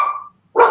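A dog barks twice, a sharp bark followed by a short pause and then a second, louder bark, close by with no talk.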